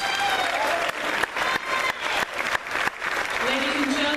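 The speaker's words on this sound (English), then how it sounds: "please join me in giving these outstanding students a round of applause." Applause fills a community college graduation hall for the graduating students, a steady, dense clapping crowd that carries on with brief dips, near and fairly loud.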